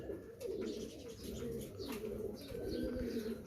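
Imamdeen pigeon and golden female pigeon cooing softly and steadily, a low continuous murmur close by with faint chirps over it.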